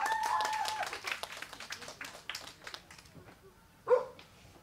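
An audience claps to welcome a speaker, a dense patter of applause that thins out over a few seconds, ending with one brief louder noise.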